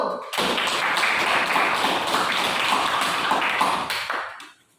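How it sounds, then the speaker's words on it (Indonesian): Classroom applause for a student group after a welding presentation, a dense wash of many hands clapping steadily for about four seconds before fading out, with no voices over it. "Beri aplaus dulu terhadap kelompok 1."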